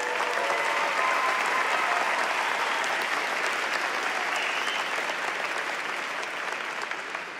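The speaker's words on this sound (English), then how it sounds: "let's give her a round of applause, please." Sustained applause from a large crowd at a Fort Collins High School graduation ceremony, a dense, even wash of clapping held at a steady level throughout, easing slightly toward the end.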